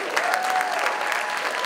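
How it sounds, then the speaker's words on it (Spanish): An audience gives a loud round of applause for student ambassadors at a student leadership showcase, with dense, continuous clapping filling the room and a faint voice or tone threading underneath. "Vamos a dar un fuerte aplauso a nuestros embajadores"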